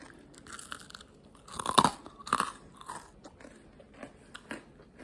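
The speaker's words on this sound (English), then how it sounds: "hear that crunch?" Crisp crunches of a homemade macaron being bitten and chewed close up, two sharp loud bites followed by softer chewing crackles fading out.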